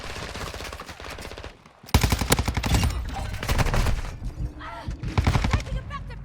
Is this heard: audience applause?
no